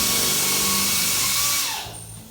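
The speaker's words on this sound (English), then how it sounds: "making the hole for the second sensor" A power drill bores a hole to mount a laser sensor aimed at a tire, whining loudly and steadily before winding down near the end of the short burst.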